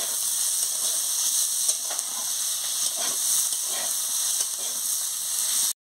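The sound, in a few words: onion frying with potato and eggplant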